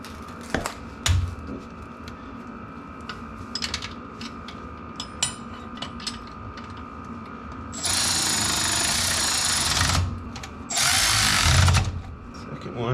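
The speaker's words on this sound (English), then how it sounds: "So we will tighten them down one by one using my electric ratchet." Electric ratchet tightening 17 mm bolts on a Toyota Land Cruiser FJ40 differential: two loud, sustained whirring bursts of a couple of seconds each, preceded by scattered clicks and clinks of handling tools and parts.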